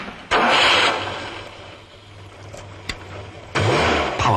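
A Ford Capri engine starts, with a loud burst as it fires, a lower steady rumble while it runs, and a second surge near the end.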